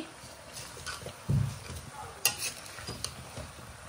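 Local chicken curry is stirred in a pot with a ladle, producing soft scraping and light sizzling with a few scattered taps and knocks against the pot, moderately close.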